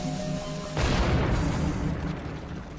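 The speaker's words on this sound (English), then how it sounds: "Michael and Peter use a replica cannon from the same era as Mehmet's bombards." A replica medieval cannon, of the same era as Ottoman bombards, fires a ball: a sudden loud deep boom that rolls into a long rumbling roar and slowly fades.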